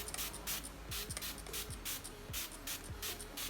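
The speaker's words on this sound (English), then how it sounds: "I'm going to go in with my Karate setting spray to spray my face" Several short bursts of hissing setting spray onto a face repeat in quick succession close by, with faint rustling between them.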